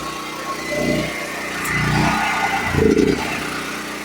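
An engine running on propane, fed from two 100 lb tanks after a gasoline start, chugs steadily up close with a few swelling surges in the middle.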